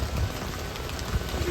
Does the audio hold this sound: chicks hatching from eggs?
no